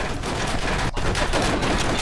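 Dense, sustained machine gun fire from the video game Call of Duty: World at War, a loud continuous rattle of rapid bursts with a brief break near the middle, no talking over it.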